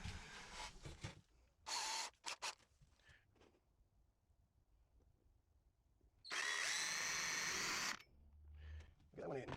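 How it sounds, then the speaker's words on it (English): A power drill pre-drills the centre of an ash wood blank for a salt mill, with two whirring bursts, a short one early and a longer sustained one later, between quieter handling noises. "Pre-drill that, which I'm going to do now."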